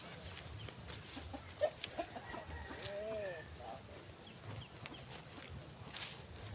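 Chickens cluck faintly around a rural Thai home, short scattered calls under distant chatter and background noise.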